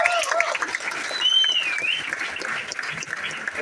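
Audience applause at a company gathering: loud, sustained clapping from many hands filling the room, with a few whistles rising above it.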